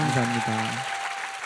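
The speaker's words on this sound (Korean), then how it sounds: "박수 한번 주셔야 되는 거 아닙니까?" Studio audience at a Korean entertainment show applauds musical guests, a steady mid-level wash of clapping running beneath someone speaking briefly.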